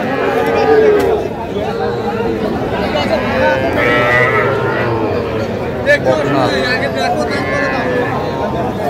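Cattle moo at a livestock market in Madaripur where small bull calves and heifers are sold; low moos rise repeatedly under constant overlapping talk from the crowd.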